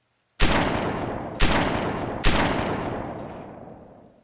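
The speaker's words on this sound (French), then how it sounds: "Sans hésiter, il tire 3 fois dans le torse de son visiteur." Three loud revolver shots ring out in quick succession, each a sharp crack followed by a long reverberating decay, with no voices.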